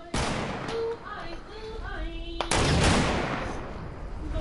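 Shots from Fortnite crack out in a few sharp bursts, with a loud one near the start and another midway, layered over game sounds and a chattering voice.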